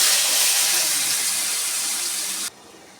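Potato pieces fry in hot oil with turmeric, a loud, dense, even hiss that holds for a few seconds before suddenly dropping to a much quieter background.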